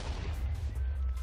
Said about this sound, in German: Das knallt jetzt alle 40 Sekunden. Okay. Ist TNT-Generator.